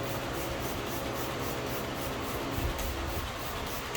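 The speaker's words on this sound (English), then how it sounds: "Give that a good wipe in." A cloth rubs all-purpose cleaner onto a car's painted surface, a continuous close scrubbing and rubbing noise with slight rhythmic swells and no talking.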